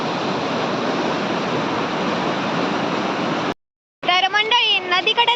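A riverbank with the river flowing close by, a loud steady rush that cuts off abruptly, followed after a short silence by a person talking.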